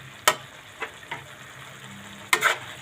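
A utensil stirring pakbet vegetables frying in a pan, a few distinct scraping clacks against the pan over a faint steady sizzle, close and moderately loud.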